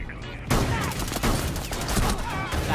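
Gunfire in the Rainbow Six video game, a dense burst of rapid shots starting abruptly and continuing loud and close, with voices heard partly under it.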